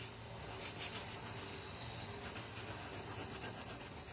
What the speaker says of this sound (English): So I'm going to sand our little bows